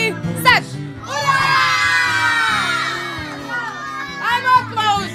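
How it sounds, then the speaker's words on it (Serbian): A group of children at a first birthday party shout hurrah together in one loud, drawn-out cheer after a short count-in by an adult, followed by more excited children's voices. "Hoćemo li jednom glasno ura? 3, 4, sad! Ura!"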